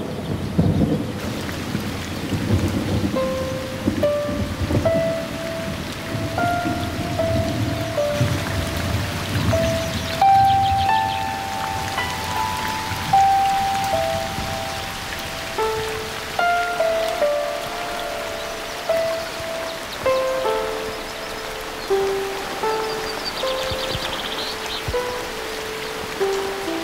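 Steady rain falls on a river bank, a continuous hiss of drops on surfaces with low rumbles of thunder and sustained tonal music over it throughout.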